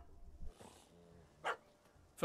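A dog barks a couple of times in the open world of Witcher 3, short sharp yelps at moderate distance mixed into quiet game ambience, with a brief voice murmur early on.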